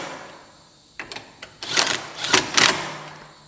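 An impact wrench drives bolts tight on a broken four-wheeler under repair, firing a few short rattling bursts that grow longer and louder toward the end, close by in a quiet shop.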